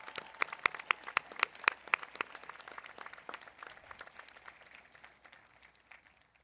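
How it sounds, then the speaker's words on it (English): Scattered hand claps from a small group at a high school graduation ceremony, crisp and uneven at first, then thinning and fading into a quiet room. "Give them a round of applause as well."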